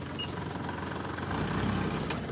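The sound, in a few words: tractor engine running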